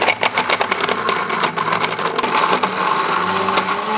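A kitchen blender grinds a large batch of whole spices for spicy braised lamb bones, a loud rattling, crunching whir with hard bits clattering against the jar throughout.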